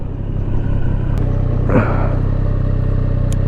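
A 2024 Triumph Street Triple 765 RS idling and rumbling close by, a steady low engine drone held at restrained revs during break-in, with a brief swell partway through and a few faint clicks.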